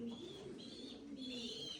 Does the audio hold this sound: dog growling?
no